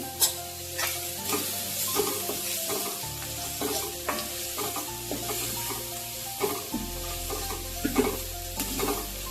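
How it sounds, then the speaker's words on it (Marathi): Finely chopped onion sautéed and stirred in a pan with turmeric for pithla, a steady close sizzle with repeated spoon scrapes and taps throughout, no voices. "हा कांदा चांगला मऊ होईपर्यंत परतून घ्यायचा"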